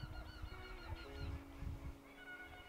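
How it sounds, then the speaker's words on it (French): An Egyptian goose honks repeatedly from a hunting hide in northern France, a run of nasal, harmonic calls close by with no talk over them. "la visite d'une ouette d'Égypte, un oiseau assez spécial"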